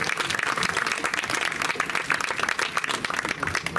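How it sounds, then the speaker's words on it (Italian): Dense, steady audience applause at a live poetry and music evening, loud and sustained throughout with no pauses. "Fatele un applauso."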